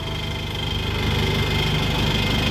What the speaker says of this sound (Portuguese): Esse barulho é do freio motor, nós vamos ajeitar já também.